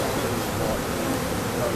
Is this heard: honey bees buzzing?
yes